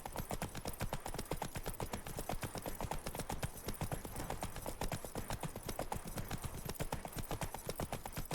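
Roach, the horse from the video game The Witcher 3, trots along with a steady, rapid clip-clop of hooves, close and continuous for several seconds with no speech.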